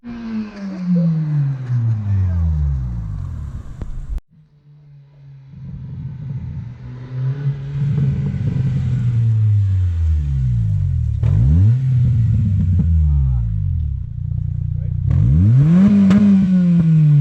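A 2005 Acura RSX Type S engine with a muffler delete revs repeatedly, rising and falling, with a rumbling exhaust burble between pulls, close and loud.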